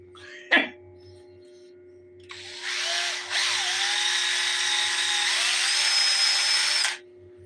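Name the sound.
drilling into silicone with a drill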